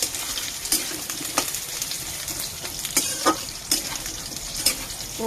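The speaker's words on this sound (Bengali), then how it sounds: "আলুগুলো দিয়ে দিচ্ছি, একটু ভাজা ভাজা করে নিচ্ছি।" Potatoes frying in hot oil in a pan with bay leaf, five-spice and dried chilli, a steady close sizzle broken by several scraping stirs, with no voice.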